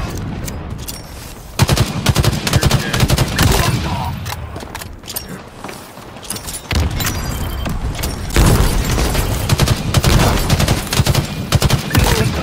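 Gunfire in the video game Halo Infinite: dense, continuous bursts of rapid automatic shots and booming impacts, loud and close, with brief lulls between volleys and no talk over them.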